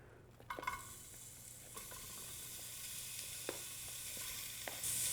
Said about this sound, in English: Let's get it sizzling